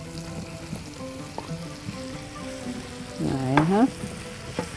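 Chicken frying in a pan as onions are added, giving a steady close sizzle with a brief louder burst of hissing and stirring partway through; a voice speaks briefly.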